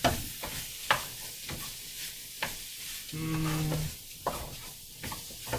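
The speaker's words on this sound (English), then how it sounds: "Drop in and stir." Kung Pao chicken is stirred in a hot wok with oyster sauce seasoning, giving steady sizzling and a few sharp scrapes and taps of a utensil, with a brief low tone midway.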